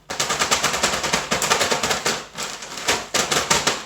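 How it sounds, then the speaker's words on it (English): Rapid, loud crackling and snapping bursts in quick succession as chunks of frozen spinach are broken apart, with a few brief pauses. "you kind of have to break up the big chunks of the spinach"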